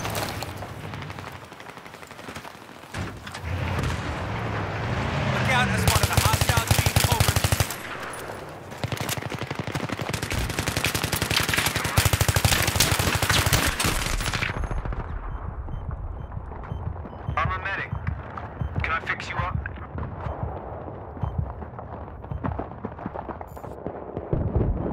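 Battlefield 3 gunfire on the Talah Market map, with an M16A4 in play: loud, dense machine-gun bursts rattle for about fifteen seconds, then thin out into scattered, sharper shots and distant pops.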